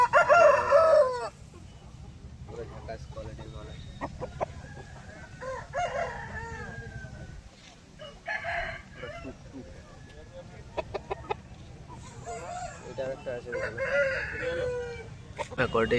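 Chickens and roosters at a rural poultry market (haat) call and cluck in scattered bursts, with occasional crowing, heard near and fairly loud over a crowded background while someone talks intermittently.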